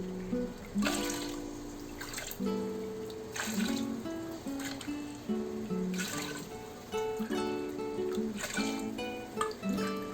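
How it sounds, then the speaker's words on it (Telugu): Water poured cup by cup into a biryani cooking pot, repeated splashing pours in a steady rhythm, close and fairly soft, with no talking. "ఇంకొక 6 గ్లాసెస్ వాటర్ యాడ్ చేస్తున్నాను."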